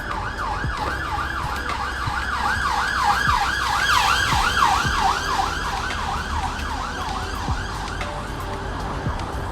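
Ambulance siren in a Mansfield village, a loud, fast-cycling wail sweeping up and down continuously as it passes close by over a rumble of road traffic.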